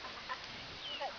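Chickens cluck faintly in a yard shared with ducks, a few short soft calls over a quiet background.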